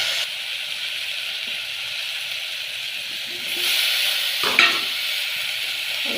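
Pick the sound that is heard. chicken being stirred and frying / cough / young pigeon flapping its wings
chicken being stirred and frying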